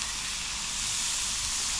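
Bacon sizzles on a Blackstone griddle at a campground, a steady loud hiss of frying fat with no pauses, close and continuous throughout.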